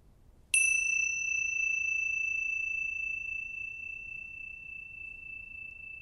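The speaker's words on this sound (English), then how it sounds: "Listen to the bell." A meditation bell is struck once, a clear ringing tone with a sharp attack that rings on alone and slowly fades over several seconds in a quiet room.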